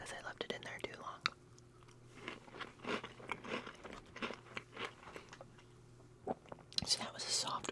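Milk-soaked soft Oreo cookie being eaten close to the microphone, with quiet wet chewing and soft crunches between faint whispering.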